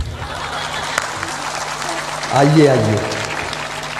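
An audience claps steadily at a Hindu religious discourse, applause sustained throughout and swelling near the end, with a voice speaking over it.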